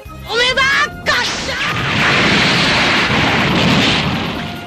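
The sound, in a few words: huge explosion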